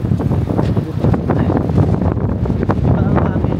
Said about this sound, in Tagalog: Grabe naman dito ang hangin.